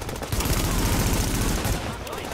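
Rapid bursts of gunfire from the video game The Division, a dense continuous fusillade of close shots with a faint voice underneath.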